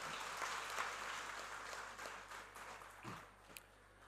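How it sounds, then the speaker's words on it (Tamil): A Tamil comedy debate audience claps, a soft, distant wash of applause that fades slightly over a few seconds, with no talking. "பெரிய கரகோஷம் கொடுங்க"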